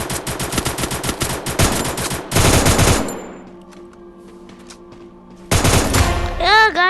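Rapid automatic gunfire bursts out loudly in the Free Fire video game, two long volleys separated by a quieter stretch of tonal game effects, then another burst closing with rising electronic tones.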